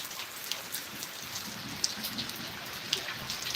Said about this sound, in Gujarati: વરસાદ લાઈવ ચાલુ છે સનસડા ચાલતો વરસાદ ચાલુ છે